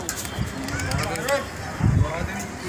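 Domestic racing pigeons in Delhi coo softly among a loft crowd, low throaty murmurs rising briefly near the end, with background voices and street bustle underneath.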